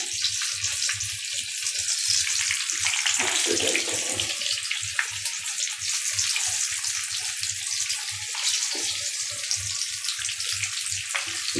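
Samosas dropped into very hot oil bubble and sizzle in a steady, dense hiss that runs unbroken and close, with no voices over it.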